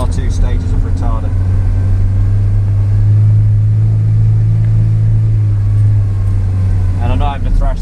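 A heavy vehicle's engine descends a hill in third gear with retarder braking, a loud steady low rumble droning throughout while someone talks over it.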